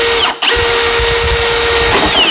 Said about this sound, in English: I'm gonna try and just drill a couple holes while we got this all sitting here for the lower pins on the radiator.